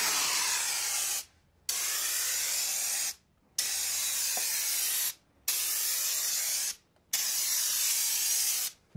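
A Rust-Oleum Turbo aerosol can with spray-gun style nozzle sprays in five long, loud hissing bursts separated by brief silent pauses, close to the listener.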